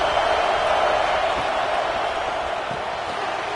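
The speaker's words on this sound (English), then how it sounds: "Man, this crowd really affecting the football game." Home crowd at a football game, a loud continuous wash of stadium cheering and noise that stays steady throughout with no clear talk on top.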